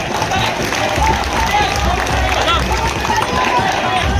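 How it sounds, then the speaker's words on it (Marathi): Dense crowd applause and cheering at a Dahi Handi human pyramid by a Govinda troupe saluting with seven tiers, a steady roar of clapping and voices filling the whole stretch. "टाळ्या टाळ्या जरा जोरदार टाळ्या"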